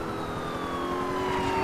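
A police siren wails continuously in the video game GTA 4 as police chase the player, loud and close with engine rumble underneath and no talking.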